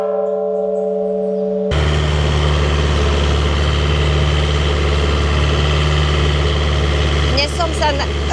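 A small boat's engine idling at Krabi in Thailand, a loud steady low drone that starts abruptly after a quiet opening and runs on continuously, with brief clanks near the end.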